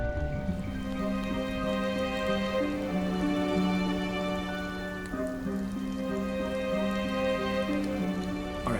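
Steady rain pattering on surfaces in the video game Nancy Drew: Midnight in Salem, continuous and even throughout, set under a sustained tonal musical drone with no voices.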